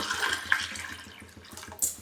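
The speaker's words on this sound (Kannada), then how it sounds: "ಒಂದೂವರೆ ಗ್ಲಾಸು ನೀರು ಹಾಕೋತಾ ಇದ್ದೀನಿ" Water pours and splashes steadily into a pressure cooker nearby, a soft continuous trickle with a faint low hum underneath.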